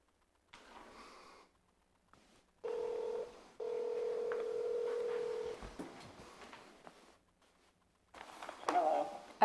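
A mobile phone emits sustained steady tones of a call connecting in a meeting room, several seconds long with brief breaks, and faint rustling and breathing nearby.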